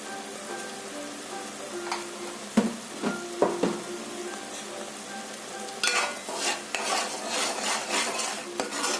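A spicy fish curry is stirred in a pot, with scattered clinks and knocks of a utensil against metal, then a busier stretch of scraping and soft bubbling, close by and without talk.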